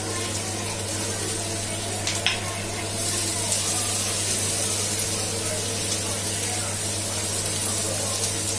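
Chopped onion sizzles in a pan of hot oil with crushed garlic, cooking for a South Indian okra stir-fry; a steady, close hiss of frying runs throughout, with a brief clink partway through.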